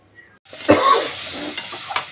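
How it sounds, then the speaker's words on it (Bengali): Prawn curry with potato, onion and garlic sautéing in a pan, a steady close sizzle with scraping stirs, starting after a brief quiet moment and running on without talk. "চিংড়ি মাছের ঝোল কষানো হচ্ছে"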